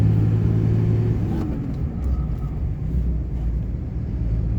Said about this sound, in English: I'll go upshift and downshift through all the gears.